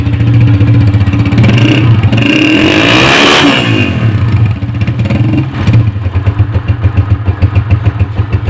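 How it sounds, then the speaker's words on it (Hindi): A 2017 Honda CG 125 motorcycle runs close and loud through its silencer. The revs climb to a peak, then the engine drops back to a steady, thumping idle. "अब इसी तरीके से इसका सिलेंसर का साउंड मैं आपको चेक करा देता हूँ।"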